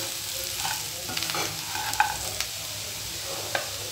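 Cauliflower and masala stirred and frying in a pan for cauliflower chilli, a steady close sizzle with soft scraping stirs and a few brief clinks.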